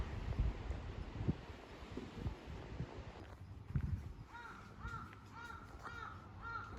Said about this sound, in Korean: 짜증나는 까마귀?